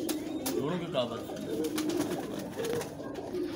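Pigeons coo softly in a low, repeated murmur close by, steady through the whole stretch while someone talks over them.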